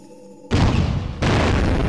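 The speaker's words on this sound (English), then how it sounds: "I call it the guided leg cannon. It is very powerful, but uses special ammo." A guided leg cannon in the Blood Will Tell video game fires with a sudden loud blast, followed moments later by a second booming burst that rings on.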